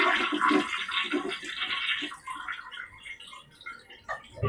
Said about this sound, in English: the only way it flushes is if I hold that down